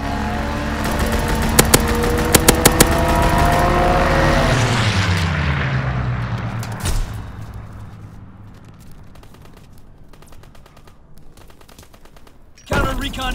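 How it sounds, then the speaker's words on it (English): Call of Duty WWII fighter aircraft strafing run: loud bursts of machine-gun fire with rapid sharp shots, a propeller plane roaring past and fading, then quieter ambience before a final sudden blast. "Fighter pilot in your area. For a strafing run."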